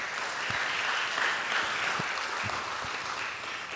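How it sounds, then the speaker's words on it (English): An audience applauds inside a church during a saxophone concert, a steady, dense wash of clapping that holds evenly throughout. "I kind of think we should all just give them a clap"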